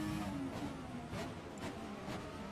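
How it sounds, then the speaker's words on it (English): A classic Formula 1 car in the F1 2020 racing game drones loudly with engine pitch shifting as it runs through gear changes, a steady close mechanical roar with no talking. "Listen to the downshifts right here."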